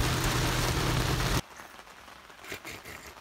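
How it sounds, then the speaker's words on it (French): Steady rain falls loud and close for the first second and a half, a dense hiss of drops on a surface, then cuts to much quieter rain with faint scattered patter. "Ça lui semblait bizarre qu'il y ait de l'eau qui tombe du ciel"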